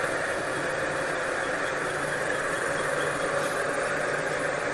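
Lathe boring a cross hole in a Farmall H steering gear arm main pivot pin using a silver-soldered carbide cutter, giving a steady, even mechanical hum and whir throughout with no talking.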